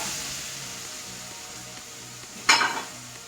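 Chopped ponnankanni spinach hits a hot pan, bursting into a sudden loud sizzle after a quiet frying hiss with faint stirring, the crackle fading over the following second.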